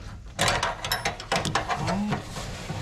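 Wrench turning a 3 1/4 fuel line fitting loose on a Chevy truck during fuel pump and filter work, a close series of metallic ratcheting clicks and scrapes with a brief squeak, no talk over it.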